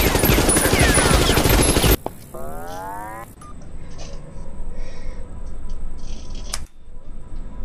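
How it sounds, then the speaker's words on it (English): Dense, loud rapid gunfire bursts added over a Tattletail horror game playthrough, cutting off abruptly into quieter game sounds with a rising tonal sweep and faint background noise. "gunshots."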